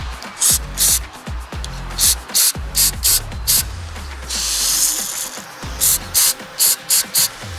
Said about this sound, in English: let's go ahead and spray this down here and see if it comes out the bottom or not.